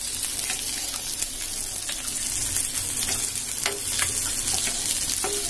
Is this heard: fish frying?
yes